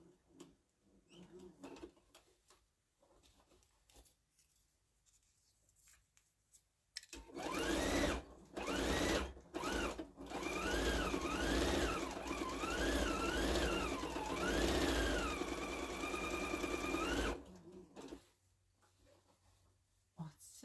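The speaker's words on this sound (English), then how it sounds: "And I'm just going to sew. Just top stitch all the way around." A sewing machine top stitches around a mini Christmas skirt at a stitch length of 3, its motor whirring loudly for about ten seconds with the pitch rising and falling as speed changes, after quieter handling sounds.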